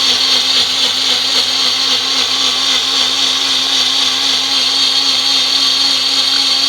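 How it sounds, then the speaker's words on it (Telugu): A kitchen mixie blender grinds mint and green chilli into paste, a loud, steady high-pitched motor whine running unbroken up close, with no talking. "ఈ క్యారెట్ ఫ్రై అయ్యేలోపు మనం అది మిక్సీ చేసేసుకుందామండి"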